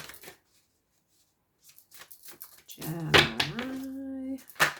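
A brief riffle of tarot cards being shuffled, soft and close, followed by a thump and some muffled speech and vocal sounds.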